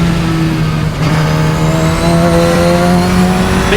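A Radical SR10 XXR race car is driven hard on a track lap, and its engine holds a loud, steady, high-revving drone with slowly rising pitch and no talk over it.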